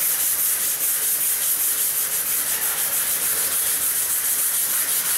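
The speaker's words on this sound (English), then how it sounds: "I'm going to wipe off the excess." Steady, close scrubbing and rubbing as excess WD-40 is wiped off a concrete floor during staining work, a continuous broadband swish with no pauses or talk.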